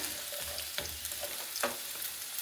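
Squash, zucchini and potatoes fry in a pan with a steady low sizzle, broken by a few brief scraping or stirring knocks, near and moderately quiet with no talking.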